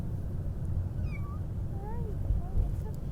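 Small kitten meowing inside a car, several thin rising and falling mews, near and fairly clear over a steady low road rumble, with faint voices in the background.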